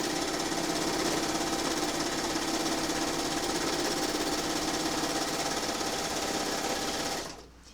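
A sewing machine runs steadily while stitching a quilt, a loud, continuous motor whir with rapid needle chatter that holds for about seven seconds and then stops abruptly.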